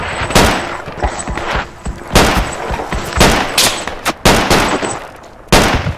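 Gunfire in the military shooter Project Reality, loud sharp shots and short bursts arriving in irregular clusters with brief gaps between them, some close and punchy, others trailing into echoing tails.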